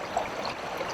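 The North Branch Susquehanna River flows in a steady, soft wash of moving water, close by and continuous through a brief stretch, with no voices.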